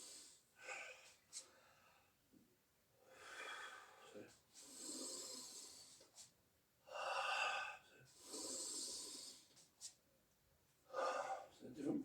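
Heavy, forceful breaths during leg-strengthening exercise: repeated loud exhales and gasping inhales in uneven bursts, close to the listener, with pauses between them.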